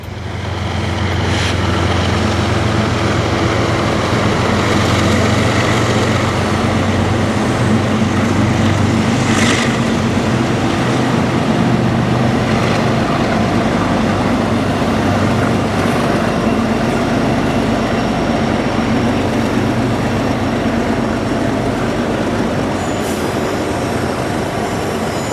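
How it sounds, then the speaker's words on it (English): Two freight trains, one CSX and one Norfolk Southern, roll past each other in a meet, a steady loud rumble of wheels and railcars with occasional brief squeals and clanks, sustained throughout at close range. "catch these two trains rolling by each other in a near perfect meet"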